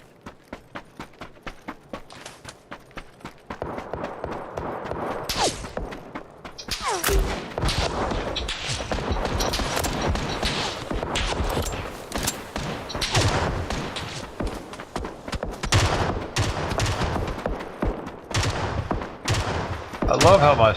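Gunfire in the video game PUBG, scattered shots and rapid bursts popping irregularly over a busy game soundscape, fairly loud and sustained.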